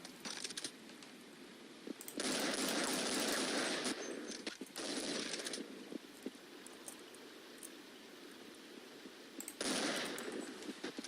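Gunfire from the video game Counter-Strike 1.6 comes in several bursts of rapid automatic shots, separated by quieter gaps with clicks and small sounds, fairly loud and close.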